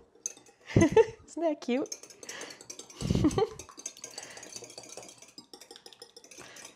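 A tiny whisk beats an egg in a bowl for venison meatloaf, giving a few quick clinking bursts against the dish, with a voice speaking briefly between them.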